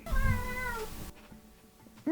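A pet cat gives one drawn-out, wavering meow close by, then quiet room noise follows before a brief sound at the end.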